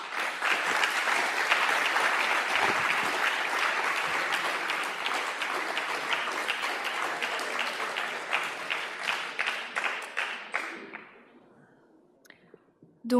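An audience at an inter-school eloquence contest final applauds a jury member with sustained, dense clapping that slowly thins into scattered claps and fades to near silence.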